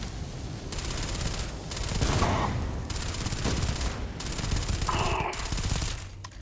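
Sustained automatic gunfire from a weapon in the sci-fi video game Starfield, loud rapid bursts with brief pauses, forming a dense continuous fusillade across the whole stretch.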